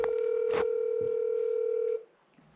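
A telephone call begins with a steady, loud dial tone, then a few short dialing beeps as a number is entered, and the tone cuts off into near silence at the end.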